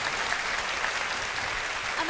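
Audience at an anime stage event applauding, a steady wash of many hands clapping at moderate loudness, continuous for the short stretch with no talking over it.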